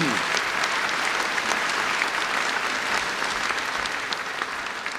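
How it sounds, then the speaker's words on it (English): An audience at a medical school white coat ceremony in Joplin applauds, a dense, loud and steady clapping that fills the hall throughout. "How about a round of applause for all of them?"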